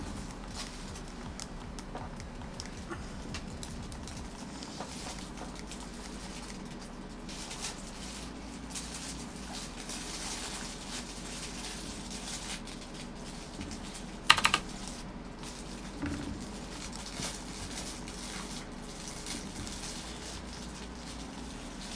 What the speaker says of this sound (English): My kid's just going to town on a little crinkle toy he has.